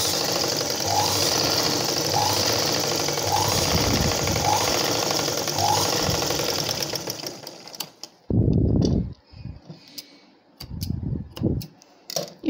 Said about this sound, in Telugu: ఇప్పుడు షేప్ పట్టిని అటాచ్ చేసిన తర్వాత 2 times స్టిచ్చింగ్ చేసుకోవాలి ఈ విధంగా